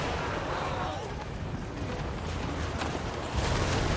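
Cannons boom and rumble through a dense battle din in Total War: Warhammer 3, with shots and blasts overlapping at close range under a continuous wall of combat noise.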